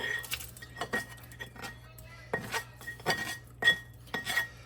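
Metal pan and utensils clatter into a kitchen sink during breakfast-cup cooking prep, a series of sharp clanks and clinks at close range with a low steady hum underneath, no talking.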